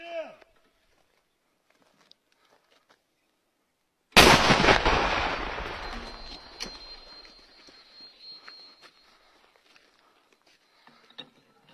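An SPG-9 recoilless gun on a Ukrainian army tactical pickup fires one deafening blast after a quiet pause. The shot rolls off into a long, fading rumble, with a brief voice at the start and faint sounds afterward.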